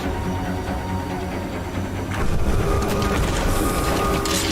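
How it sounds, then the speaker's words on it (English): A moving train in the Choo-Choo Charles video game rumbles steadily throughout, with denser, louder mechanical clatter and rattling building from about halfway, close and continuous with no talk. "Shut it and just get the train moving already."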